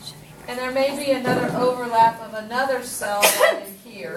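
A single sharp sneeze from someone nearby cuts through a lecturer's continuous talk near the end.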